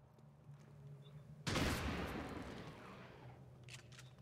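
XCOM 2 soldiers open fire in a sudden loud volley that breaks a quiet hum and then tails off into a fading crackling wash.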